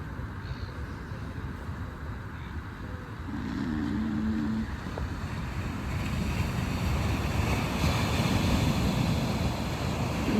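Ocean waves and surf near a glass bridge in Bali, a steady rushing wash that swells louder partway through, mixed with wind buffeting the microphone.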